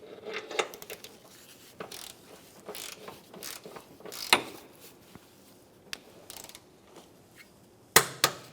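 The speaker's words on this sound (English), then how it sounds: "We can torque these down." A ratchet torquing down strut bolts on a 2007-2013 Acura MDX, with quick clicking ratchet bursts and metallic clinks separated by pauses, close and fairly quiet.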